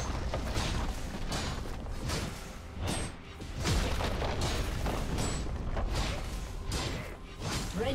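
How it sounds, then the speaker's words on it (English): Booming impacts and whooshing effects from a turret being destroyed in League of Legends, with repeated heavy thuds and swishes over a dense, continuous game-action bed. "Red team's turret has been destroyed."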